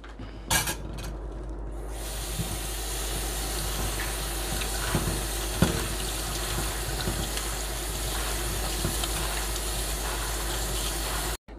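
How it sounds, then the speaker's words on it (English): Carrots, spinach and tomato rinsed under a running kitchen tap, a steady close gush of water lasting throughout with a few brief splashes and knocks as the vegetables are handled. "And now I'll be rinsing the carrots."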